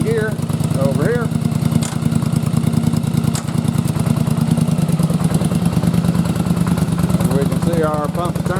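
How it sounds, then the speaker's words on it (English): A Yamaha Virago motorcycle engine runs on a test rig with a pump loading it down, giving a loud, steady, rapid thudding idle with mechanical clatter. A voice talks over it. "Now, if we turn our pump on back here, we can load the motor down."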